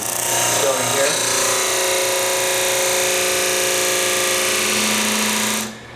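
A disk sander runs with a loud, steady motor whine and grinding friction against the workpiece, then winds down and stops just before the end.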